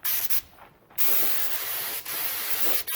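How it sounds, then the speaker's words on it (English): A spray gun lays catalyzed varnish over the thin walnut veneer top of a wooden tray in steady hissing bursts, with short pauses between passes and a longer break partway through. "I think with what I've got left in the gun, I'm going to hit the top again, try and seal up that veneer"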